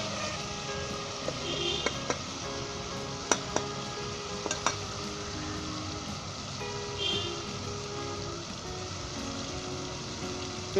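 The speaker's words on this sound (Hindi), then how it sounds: "और अच्छे तरीके से इसे 1 मिनट के आप फ्राई कर लें" Steady soft sizzle of ingredients frying in a pan for Punjabi aloo murgh shorba, with a few sharp clicks of stirring scattered through, heard close and fairly quiet.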